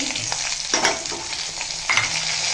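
Urad dal and lentils frying in hot oil for a pepper kuzhambu, a steady close crackling sizzle with a few louder bursts as pieces hit the oil, no talking.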